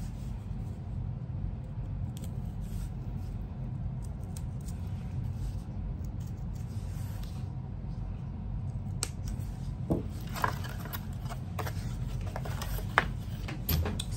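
A sharp knife slices through foam board in faint, short scratchy strokes over a low steady hum, quiet and close, with the cuts clustering in the second half.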